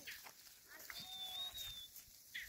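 Sirohi breed goats on an Indian herders' farm give a faint, drawn-out bleat over steady outdoor background noise, with a brief second cry near the end.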